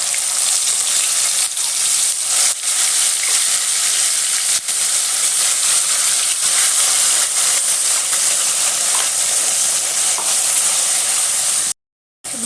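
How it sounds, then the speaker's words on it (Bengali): Spice paste for a light chicken curry fries in hot oil, giving a loud, steady sizzle and hiss with occasional stirring scrapes. It cuts out abruptly near the end. "মশলাটা আমি ভালো মতো করে ভেজে নেব"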